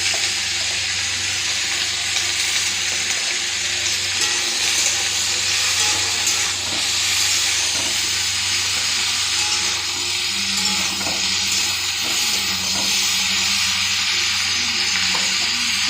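Potatoes fry in a covered pan over low gas with a steady, dense sizzle and hiss that runs unbroken throughout, with faint clinks and no voices.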